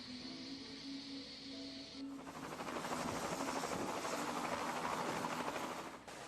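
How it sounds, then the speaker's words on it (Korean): A helicopter roars loudly and steadily, its broadband rotor and engine noise swelling after a quieter opening and filling the clip without any talk. "요란한 헬리콥터 소리에 원주민들이 놀라서 뛰는 줄만 알았는데"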